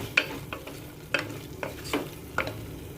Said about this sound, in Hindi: मिक्स करके आधा मिनट और पकाएंगे।